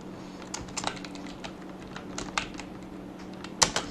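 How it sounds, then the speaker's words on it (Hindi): Someone types on a computer keyboard while entering data in Excel, with irregular bursts of close, crisp key clicks and a sharper keystroke near the end over a faint steady hum. "यहाँ पे हम लिख देते हैं राम कुमार,"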